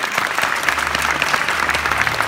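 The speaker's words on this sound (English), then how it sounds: "a big round of applause" Loud, dense audience applause at a live sewing show event, a crowd clapping continuously and close throughout with no speech over it.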